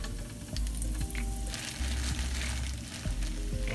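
Tofu crisping in a hot pot over low-medium heat, a dense continuous sizzle with a few knocks and stirring scrapes, close and fairly loud.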